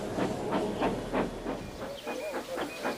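Henry, the storybook steam locomotive, puffs in a steady rhythm of about ten close, hissing chuffs as he pulls into the terminus, with a brief whistle-like tone near the end.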